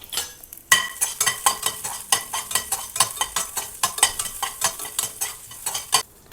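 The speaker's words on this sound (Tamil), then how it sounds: "இது கூடவே இஞ்சி, பூடு, 2 பச்சை மிளகாய் இதையும் போட்டு வதக்கிக்கலாம்." Cinnamon, ginger, garlic and green chilies are sautéed in a pan with a spoon, a close run of brisk scraping and clinking strokes over a light sizzle, repeated in quick irregular bursts.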